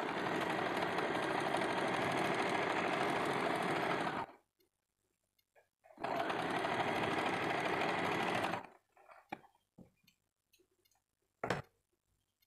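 A sewing machine stitches the side seam of a 32-inch double katori blouse, running loud and steady in two long bursts of about four seconds each, then falling to faint clicks and handling noises.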